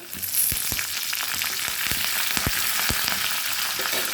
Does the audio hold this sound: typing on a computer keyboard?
no